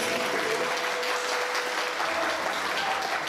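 Audience applause at a wedding celebration, steady dense clapping from a crowd filling the room, continuous and loud throughout with no gaps.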